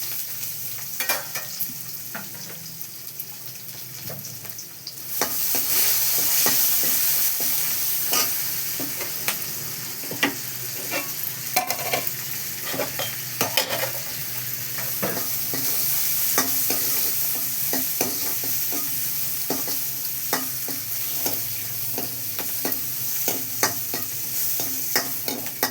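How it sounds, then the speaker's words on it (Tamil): Onion and green chillies frying in oil with fennel seeds for a Tamil crab curry, a steady close sizzle broken by frequent sharp scrapes and clicks of a spoon stirring the pan, with no talk. "கொஞ்சம் பெருஞ்சீரகம் தாளிச்சிட்டு இந்த வெங்காயம் பச்சை மிளகாய் அதையும் தாளிச்சிடுவோம்."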